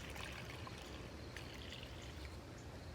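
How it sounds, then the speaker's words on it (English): Water poured into a well of flour for Neapolitan pizza dough, a steady close-up trickling pour running continuously without pause, with no talking. "So the first thing we're gonna add is our water. You wanna add all the water at the bottom."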